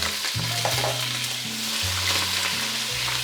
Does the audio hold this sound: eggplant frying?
yes